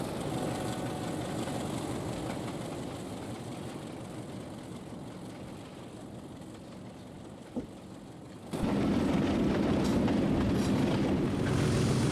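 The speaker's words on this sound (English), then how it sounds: "Let's get a flyby shot, shall we, of these two fantastic locomotives." Two simulated locomotives roll past on a Swanage Railway route in the Trainz 22 train game, with a steady rumble of wheels and engine that jumps suddenly louder near the end as the trains draw level, no talk.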